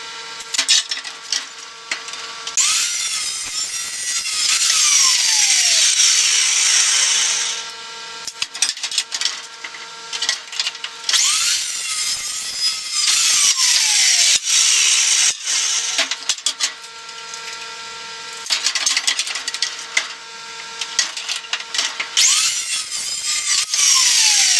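Metal pieces for a trailer frame being cut with a power saw in three long passes, each a loud, steady grinding whine that rises and then drops away, separated by short pauses with clatter and handling noise.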